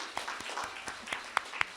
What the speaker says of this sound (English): One more round of applause for So Noir